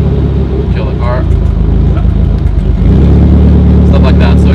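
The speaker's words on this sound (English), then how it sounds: "we can turn off Adele's number 2 cylinder right now" A car engine idles unevenly with its number 2 cylinder shut off, giving a loud, rough, lumpy rumble that grows heavier partway through, with a person talking over it.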